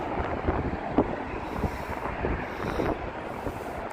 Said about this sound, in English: Alright, I think it's getting too windy.